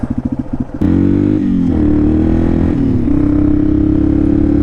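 A Honda CRF dual-sport motorcycle riding an off-road section: a loud, close engine chugs in short pulses, then settles into a steady, strong drone that rises slightly in pitch as it accelerates.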